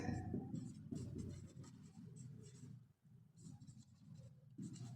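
Marker or chalk scratches and taps on a board during a physics lecture, a run of faint, close strokes with short pauses between them and no talking.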